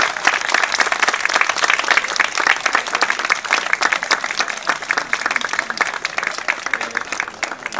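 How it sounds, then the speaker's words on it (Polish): Audience members clap during a queimada fire ritual in Sławków, producing loud, continuous, crowded applause that runs unbroken for nearly eight seconds. "We can clap."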